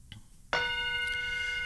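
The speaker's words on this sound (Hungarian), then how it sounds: "szintén a haranggal fogom kezdeni" A single bell struck once to open chanting at a Sivananda yoga centre, a clear ringing tone that sustains and slowly decays after a faint earlier tap, with no talking.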